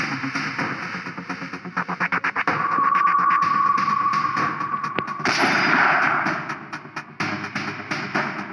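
Gunfire in the shooting video game Cover Fire: a rapid string of sharp, close shots, then sustained blasts with a ringing tone and a few scattered single shots near the end.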